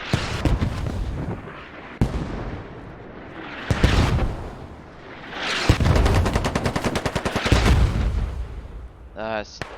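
Mortar impacts and rifle fire from the Squad video game on the Al Basrah map: heavy booming blasts and bursts of rapid automatic shots, some fast and rhythmic, with speech faintly mixed in.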